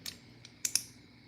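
Keystrokes on a computer keyboard in a workshop, a few quiet scattered clicks with two sharper taps near the end, faint and close with no talking.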